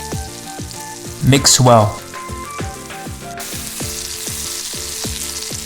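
Onions sizzle and fry in a hot pan on medium heat for sweet and sour pork, with loud steady crackling and a brief clatter of stirring; a voice speaks briefly over the cooking.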